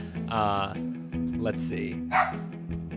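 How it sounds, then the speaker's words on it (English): Pet dog barking and yipping in a few short bursts somewhere in a room, mixed in with someone talking over it during a Pokemon card game session. "I apologize for my dog barking there in the background like that."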